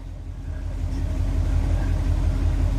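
A car engine idles steadily and loudly up close after an idle mixture screw adjustment, a smooth, even low rumble with a regular pulsing beat and no talking.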